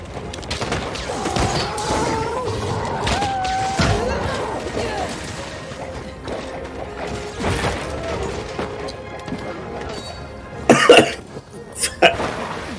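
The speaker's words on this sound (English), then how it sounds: "I wish this fucking cough would go away though." Someone coughs during a Monster Hunter World session, a few sharp coughs and throat clearing close to the mic over game sounds, with a louder cluster near the end.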